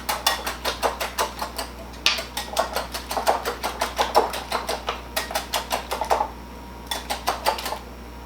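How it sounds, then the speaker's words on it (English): A whisk beating egg yolks and vanilla for custard pie in a bowl, quick rhythmic clicking taps in steady bursts with brief pauses, close and moderately loud with no talk. "I'm going to whisk this."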